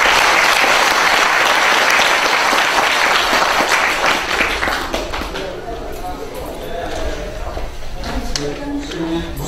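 A crowd at a book concert in Jeju bursts into loud, vigorous applause for an arriving guest; the clapping swells for several seconds, then thins and fades as a voice begins speaking over the remaining scattered claps.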